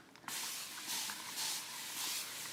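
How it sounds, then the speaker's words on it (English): A spray bottle hisses in several short bursts, spritzing water onto a painting canvas in a quick rhythm at close range. "We're going to spray our canvas."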